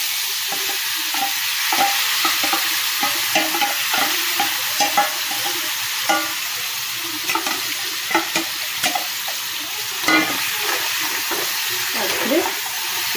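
Chicken roasting in a pan with a little oil and whole cumin sizzles steadily up close, broken by repeated stirring scrapes and clinks of a spoon.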